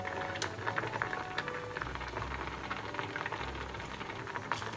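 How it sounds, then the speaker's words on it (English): Water with a piece of kombu kelp boils in a pot for dashi, a steady bubbling simmer with faint pops, close and continuous. "So it's boiling now, so I'm gonna let it boil for 2 to 3 minutes."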